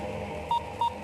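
Two short electronic dialing tones from a telephone, evenly spaced about a third of a second apart, play over a steady low background hum in a Telugu film scene.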